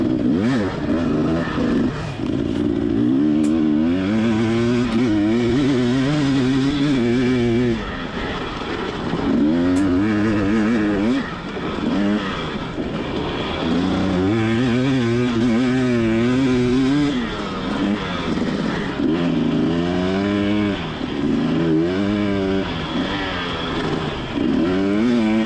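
Motocross bikes racing on a dry dirt track, with loud engines revving up and down in repeated rising and falling sweeps as riders accelerate and shift. The sound is close and continuous, like from an onboard view, and no one talks.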